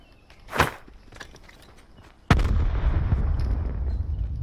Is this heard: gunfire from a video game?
yes